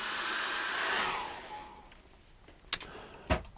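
A hair dryer blows a steady broadband rush onto wet acrylic paint on a winter landscape canvas, then cuts off after about a second and a half, leaving quiet with a couple of sharp clicks and knocks.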